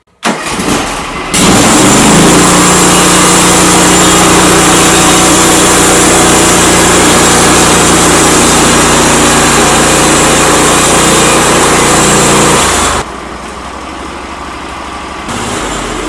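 Norwood portable sawmill cutting a 6/4 board from a log, its engine roaring loud and steady under load for about eleven seconds after a brief start, then dropping to a lower idle as the cut finishes.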